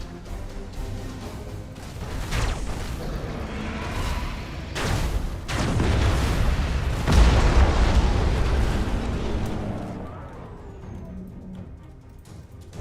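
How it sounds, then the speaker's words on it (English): Torpedoes launched and detonating in the space strategy game Battlefleet Gothic Armada 2, a sustained rumble broken by several loud booming explosions that swell and then fade away. "He just launched torpedoes in a panic."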